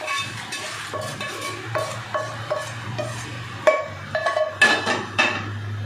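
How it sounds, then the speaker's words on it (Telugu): A spoon clinks and scrapes against a steel bowl as a hot tempering goes into a grated raw mango chutney and gets stirred through, giving a run of sharp metallic taps and knocks close by. "ఆ తాలింపుని ఇందులో వేసేసుకోవాలన్నమాట"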